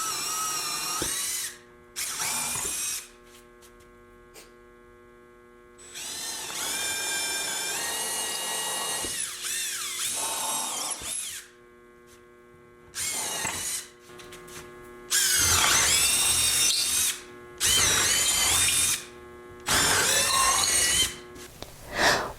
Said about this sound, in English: Once I have my holes drilled to the size that I need for my bolts